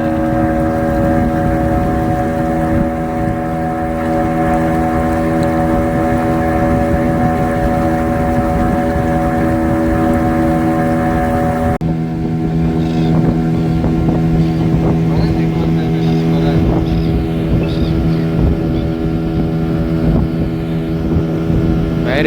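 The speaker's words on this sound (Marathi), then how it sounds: "हो बघा मारली, वाढला स्पीड वाढला बाई बोटीचा." A motorboat on the sea off the Konkan coast drones loudly and steadily with wind noise, its engine tone shifting as it speeds up partway through.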